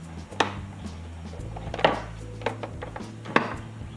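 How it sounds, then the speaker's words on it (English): A torque wrench clicks while chainring bolts are tightened on a bicycle, four sharp, close clicks spaced about a second apart over a low hum. "Torque wrench."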